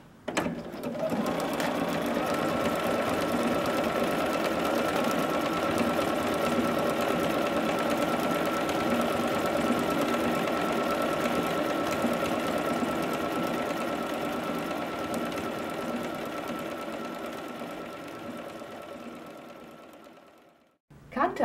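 A Bernina sewing machine fitted with narrow edge foot #10 sews a ribbon onto fabric, running at a steady, even hum for about twenty seconds before stopping.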